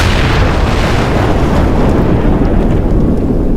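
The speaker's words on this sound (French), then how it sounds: "une explosion se produit à mi-chemin de la descente" A loud, sustained explosion rumble for a Star Wars role-playing scene, a dense roaring blast that fills the whole clip with deep, continuous noise and no voices.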